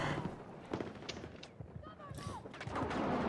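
Video game gunfire comes as a quick burst of distant, muffled shots and clatter, with someone talking over it.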